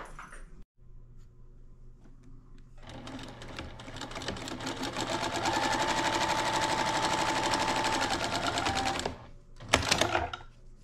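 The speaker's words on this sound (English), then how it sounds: "put right sides together, and we're going to stitch that down" A sewing machine stitches fabric for a napkin ring, starting after a quiet moment into a fast, steady mechanical whir that runs close and clear for about six seconds, then stops, followed by a short clatter.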